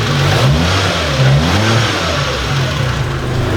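A car with a swapped engine revs loudly and close, its engine note rising and falling in several throttle blips over a continuous running drone, with no voices.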